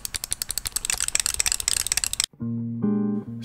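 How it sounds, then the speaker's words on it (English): Rapid dense clicking from a TECNO Plus flight stick controller for the Super Nintendo, a fast rattling run of plastic clicks that stops abruptly and gives way to a sustained electronic game tone. "It does make a lot of clicking noises."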